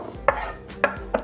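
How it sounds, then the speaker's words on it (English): A sharp knife chops herbs on a cutting board in three distinct, crisp knocks spaced unevenly, close and fairly loud with no talking. "So when chopping herbs, you want to make sure you have a very sharp knife."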